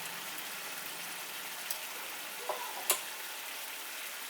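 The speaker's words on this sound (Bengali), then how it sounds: "এবারে এই মশলাটাকে একটু ভালো করে আমি 3 থেকে 4 মিনিট একটু কষিয়ে নিচ্ছি।" Masala paste of chili, cumin and coriander powder with salt frying in a pan for Bengali soya chunk curry, a faint steady sizzle with a few soft clicks of stirring.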